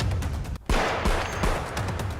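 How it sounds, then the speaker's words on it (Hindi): Fireworks burst during New Year 2022 celebrations in Sydney, a dense crackling barrage of sharp pops and booms with a brief lull, then renewed rapid explosions at a moderate distance. "लोगों ने आतिशबाजी की, 2022 का दमदार तरीके से स्वागत किया।"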